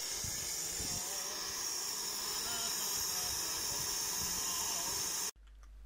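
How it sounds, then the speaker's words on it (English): Steam blowdown from a Martin Evans 0-4-0STT Conway model steam locomotive, a loud steady rushing hiss that holds for about five seconds and then cuts off abruptly, leaving faint low rumble. "I had to quickly put the fire out and drop the steam out of it through the blowdown"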